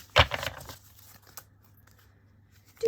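A short burst of oracle cards being shuffled, papery riffling and rustling near the start, then quiet handling noises and a soft thump at the end.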